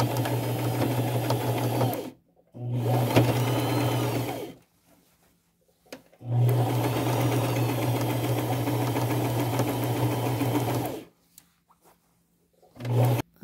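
Sewing machine stitching along the curved hem of a thrifted men's shirt, running in steady loud bursts of about two, four and five seconds, separated by short pauses.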